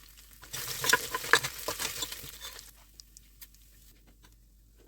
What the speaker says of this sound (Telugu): దానిలో బిర్యానీ పువ్వు దాల్చిన చెక్క లవంగ మొక్క రెండు యాలుకలు జీలకర్ర వేసి బాగా వేగనివ్వాలి